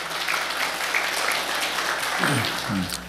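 Church congregation applauding to encourage a guest preacher, a broad steady patter of clapping filling the room throughout, with faint murmuring voices beneath.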